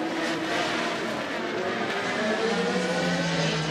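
Race cars at the 88th Le Mans 24 Hours, a September running, sustain a steady engine roar with rising and falling pitch lines as cars pass, loud and continuous with no talk.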